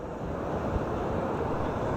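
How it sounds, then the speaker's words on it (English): Constant low roar of wind buffeting the microphone at a high lookout over Newcastle city centre at night, steady and loud throughout with no speech. "It's windy up here as well."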